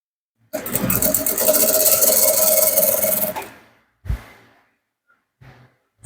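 An electric sewing machine stitches fabric for an agbada neckline in a loud, continuous whir lasting about three seconds, followed by a couple of brief knocks and a short final burst.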